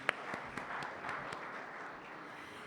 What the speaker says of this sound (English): give a round of applause for my venue volunteers